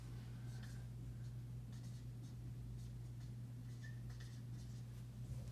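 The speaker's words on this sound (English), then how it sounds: "now that we got the definitions written" Pen or pencil writing definitions by hand, faint scratchy strokes in short intermittent bursts over a steady low electrical hum.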